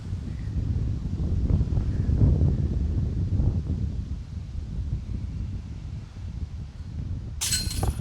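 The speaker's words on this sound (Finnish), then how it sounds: "kova tuuli" Strong wind buffets the microphone in a continuous low rumble that gusts and eases, ending with a brief sharp clatter.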